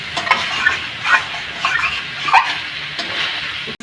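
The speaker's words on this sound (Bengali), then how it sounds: "কাঁচা মশলার গন্ধ বেরোচ্ছে বলে একটু জল দিলাম, জল দিয়ে কষিয়ে দিচ্ছি।" Raw spices are cooked down with a splash of water in a pan for a Bengali drumstick and cumin dish, giving a run of scraping spatula strokes over a soft, steady sizzle, close and fairly loud, with no talk.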